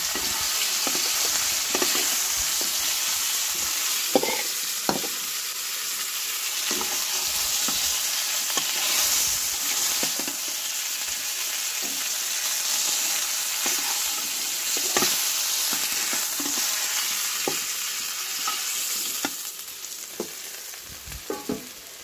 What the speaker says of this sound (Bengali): পেঁয়াজ একটু কড়া করে ভাজবো, পেঁয়াজটা ব্রাউন কালার করে নেব